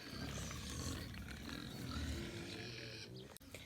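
Pigs on a small off-grid homestead in central Portugal grunt and snort continuously at close range while awaiting their breakfast, a dense, rough low chorus that breaks off briefly near the end.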